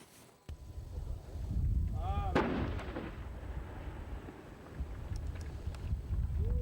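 Ground-blasting explosion at a railway station construction site in Akhalkalaki, a single sharp distant boom followed by a rumbling roll of debris and wind noise that lingers for several seconds.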